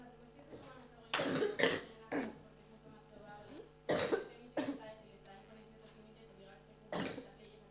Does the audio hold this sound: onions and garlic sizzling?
no